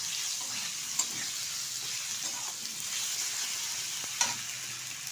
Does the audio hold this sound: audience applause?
no